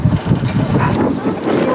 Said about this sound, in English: It's super windy again today.